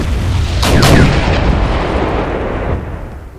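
Artillery shells fired in the war strategy game Wargame: European Escalation, two close sharp reports followed by a heavy rolling rumble that slowly fades.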